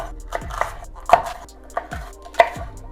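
A knife cutting a bell pepper into strips on a cutting board: about six distinct, close knocks of the blade at an uneven pace, with no talking.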